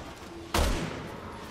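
A single sharp gunshot bursts out loud in Resident Evil 6, followed by a short rumbling decay over a faint game background.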